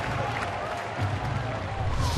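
Ballpark crowd at a Milwaukee at Pittsburgh baseball game roars and cheers after a strike call, a steady broad wash of voices holding at a constant level throughout.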